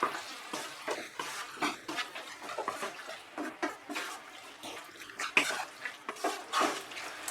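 Mutton liver being stirred into spice masala in a pan, with repeated scraping and wet clattering strokes of a spoon against the metal, close and fairly loud, in an irregular rhythm.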